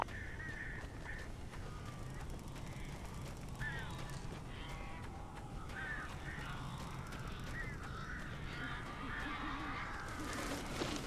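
Crows cawing in the Alan Wake video game, several harsh calls scattered over a steady droning game ambience, mid-distance and moderately loud.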